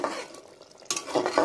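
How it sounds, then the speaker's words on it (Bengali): A spoon stirs spiced mutton keema in a frying pan, scraping and clinking against the metal over a soft sizzle in a few quick bursts, close by, with no talking. "এবার ভালো করে নাড়ব।"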